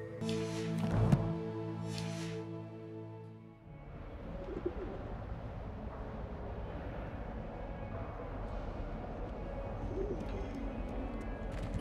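Pigeons coo softly in the Hogwarts Legacy video game over a quiet ambient background, coming right after a short burst of music at the start.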